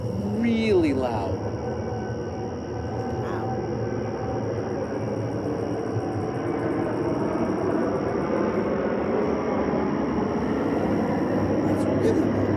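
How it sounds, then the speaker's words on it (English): A loud, low-flying airplane rumbles overhead in a steady roar that fills the whole stretch while people talk over it. "Wow, that plane is really loud."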